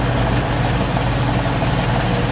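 A 1970 Cadillac Coupe DeVille V8 idles loudly and steadily right after starting, a deep even rumble close by with no talking.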